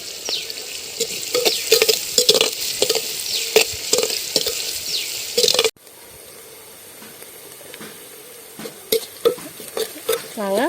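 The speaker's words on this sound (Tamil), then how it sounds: "கொஞ்சம் நேரம் நல்லா வதங்கட்டும்." Curry masala for a Katla fish curry sizzles and fries in a clay pot, with a spoon scraping and stirring in repeated strokes; the sizzle drops to a softer hiss halfway before stirring resumes.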